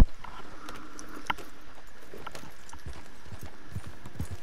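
Horse hooves in Red Dead Redemption 2 clip-clop steadily over a continuous ambient background, moderately close with an uneven gait.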